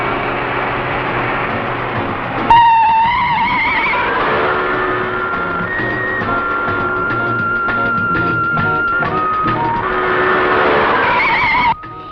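A car's tires squeal sharply as it brakes to a stop, a long, wavering screech that holds for several seconds before cutting off abruptly, loud and close.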